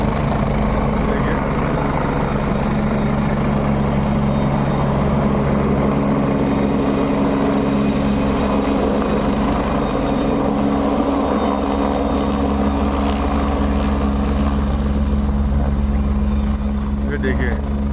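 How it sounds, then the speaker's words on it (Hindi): A helicopter arrives at Kedarnath Dham, its loud, steady rotor thrum and engine whine filling the air continuously and close by, with voices talking underneath. "ये देखिए किस प्रकार ये हेलीकॉप्टर आ रहा है।"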